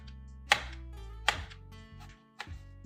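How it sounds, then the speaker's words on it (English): Onions chopped with a knife on a board, three sharp, separate close knocks of the blade in a quiet kitchen. "we're gonna chop some onions"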